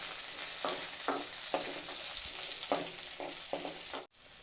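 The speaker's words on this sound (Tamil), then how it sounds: "வெங்காயத்தை நல்லா சொட்டே பண்ணிக்கணும், நல்லா வேகட்டும். இப்போ கருவேப்பிலை போடுறாங்க, மிளகா, பச்சை மிளகா" Onions, curry leaves and green chillies sizzle steadily in a pan of hot oil, a continuous close frying hiss broken by repeated brief stirring scrapes, then a sudden sharp dip near the end.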